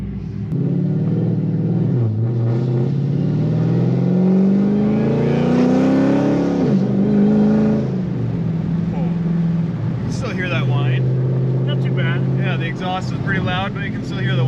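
A loud Dodge Challenger Hellcat revs hard from inside the car, its deep exhaust rumble rising and falling while a high supercharger whine climbs above it; a person talks over the engine toward the end.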